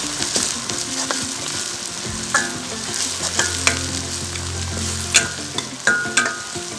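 Chicken tossed with chilli powder in a hot pan gives a close, continuous sizzle broken by sharp scraping stirs and clanks of a spoon against metal, with no voices.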